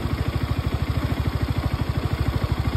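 A big-bike motorcycle engine with 82,000 km on it after five years idles with a steady, even low thump and a light mechanical clatter. It sits close and alone throughout, with no talking.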